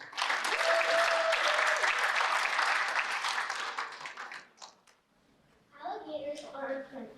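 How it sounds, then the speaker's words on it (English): Applause at a school arts festival concert rises into loud, sustained clapping with a few cheers, fades out, then a voice speaks briefly as scattered claps linger. "So one more round of applause for Morgan Solsky."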